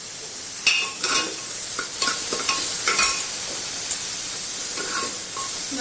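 Chopped onions sautéing over a medium flame in a pan, a steady sizzle and hiss broken by repeated scraping clinks of a spoon stirring, close and fairly loud, with no voices.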